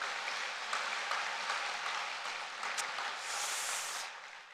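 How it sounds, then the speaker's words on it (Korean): Congregation at a Korean interdenominational fasting worship service applauding in thanks, a broad, steady wash of clapping that holds evenly for several seconds before thinning out at the end. "우리 감사 박수 한번 올려드리겠습니다."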